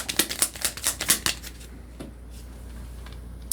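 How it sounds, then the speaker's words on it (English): Tarot cards pulled from a deck make a quick series of crisp snapping flicks, about a dozen in rapid rhythm, followed by quieter rustling. "So let's pull some clarifying cards for this Ten of Swords."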